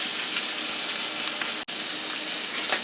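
Link sausages frying in a pan make a constant, close hiss and crackle, briefly cutting out for an instant partway through, with no voices.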